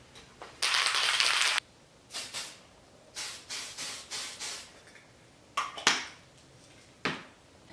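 Primer paint sprayed from an aerosol can onto an RC scale bedliner, heard as one long hissing burst followed by several short close spritzes with pauses between them.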